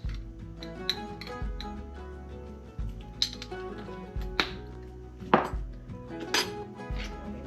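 A whisk clinks and taps against a bowl as baking soda, salt and other dry ingredients are mixed, sharp metallic knocks at an irregular rhythm over a low steady background hum.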